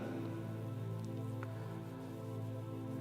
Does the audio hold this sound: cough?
no